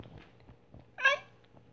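A pet cat lets out a single short meow while playing. The meow is fairly soft and stands out against a quiet room.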